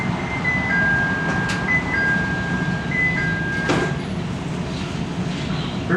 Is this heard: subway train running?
yes